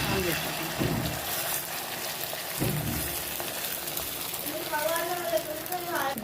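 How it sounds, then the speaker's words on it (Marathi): Chopped onions frying in hot oil in a pan for an omelette, a steady broadband sizzle close by that stays continuous throughout, with a few scraping stirs and a voice speaking briefly over it. "त्यावर आपण असं ऑइल टाकूया. त्यामध्ये आपण कांदे टाकूया."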